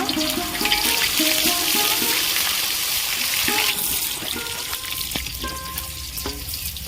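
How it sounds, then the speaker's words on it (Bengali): Paneer cubes fry in hot oil for a vegetarian navratan korma, giving a steady, dense sizzle that runs throughout with faint tonal sounds in the background. "পনিগুলো ভেজে নেব"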